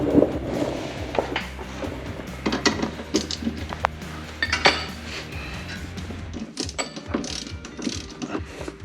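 Metal tools and sockets clink and rattle near at hand while someone rummages through a toolbox during parking brake repair on a 1966 Ford Mustang, irregular clatters and a ratcheting click, no talk.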